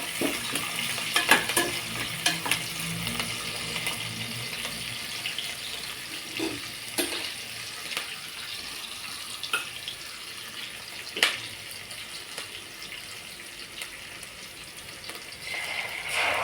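Onion, green chilli and curry leaves frying in a pan for chicken biryani, a soft steady sizzle with occasional spatula scrapes and clinks, fairly quiet and close, no voices.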